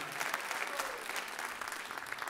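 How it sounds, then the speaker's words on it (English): A school winter jazz concert audience applauds the young performers with dense, even clapping from many hands, sustained throughout at a moderate distance. "How about a round of applause for all of these great, wonderfully talented young ladies and gentlemen."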